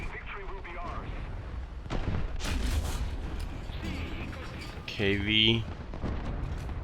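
Artillery booms in War Thunder during a Panzer III N battle, several heavy thuds spread across the moment with someone talking over them.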